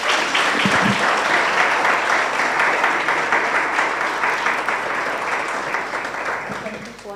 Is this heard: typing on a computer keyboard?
no